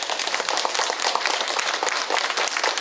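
A church congregation applauds an elder in his nineties during an Easter service, dense close clapping from many hands that carries on evenly throughout, with no speech over it.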